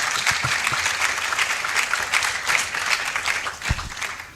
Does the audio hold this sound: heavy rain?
no